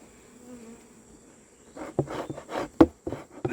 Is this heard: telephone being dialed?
no